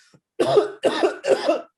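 Three coughs in quick succession, close and fairly loud, each a short burst with a brief gap between.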